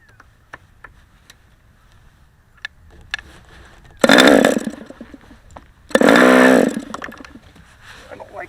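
A Rossi 40 model engine is spun with a McDaniel starter: faint ticks lead into two separate, loud, buzzing bursts of about a second each, close by.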